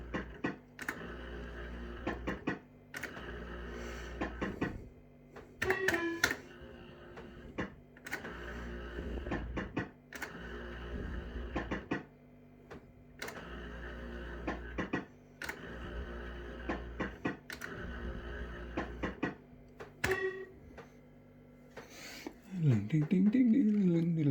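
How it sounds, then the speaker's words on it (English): Reels spin on an Each Way Nudge Mk3 fruit machine in repeated bursts of mechanical whirring and clicking, separated by short pauses, with a voice talking between the spins. "It's not really a moan, it's like a whirring of the reels."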